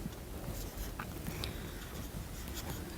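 A pen scratches steadily on paper while writing out a table layout. The faint, continuous scratching comes with no speech.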